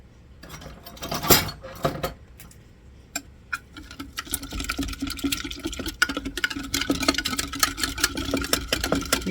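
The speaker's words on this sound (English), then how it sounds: "to use a whisk" A whisk stirs sourdough bread batter in a bowl, a steady run of close, quick clinking and scraping strokes that grows busier and denser as the mixing goes on, with no talk.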